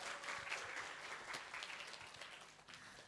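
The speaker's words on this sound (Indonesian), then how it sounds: "tepuk tangan untuk Anda semua" Audience applause at a public lecture on classroom communication, steady dense clapping filling the whole stretch at moderate level, tapering slightly toward the end.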